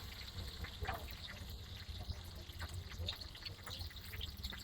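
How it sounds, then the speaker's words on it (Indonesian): Beaten egg poured over rice vermicelli frying in hot oil for bihun telur, a continuous crackling sizzle dotted with small pops and splashy spits that holds at a fairly even level throughout. "Ketika dia sudah naik, lalu kita siram pakai telurnya ya."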